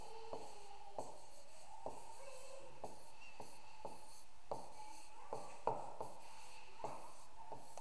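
A pen writes spelling words on paper in a quiet room, giving a steady run of short, faint scratching strokes with brief pauses between words.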